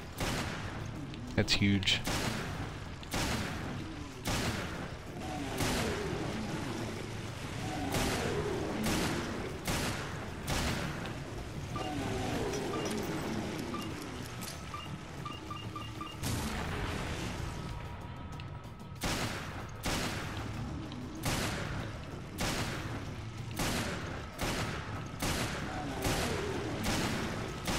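A Magnum in a video game fires a rapid string of sharp, loud shots against a busy background of game noise, with a short remark spoken early on.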